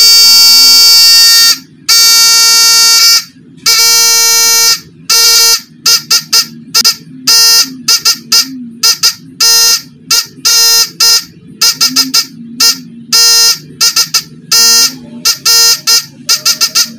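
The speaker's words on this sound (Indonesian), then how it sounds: "Ini kita akan lihat nih buzzer jadul itu bunyinya kayak apa ya." An old 6-volt DC buzzer sounds loudly and harshly, first in a few long blasts and then in a rapid series of short bursts, like Morse-code keying, alone with no talk.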